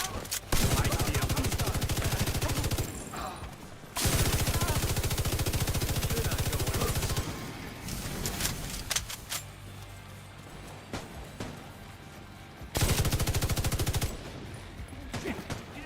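Automatic gunfire from The Division 2 pours out in long, loud sustained bursts separated by brief gaps, with scattered single shots and game effects between them.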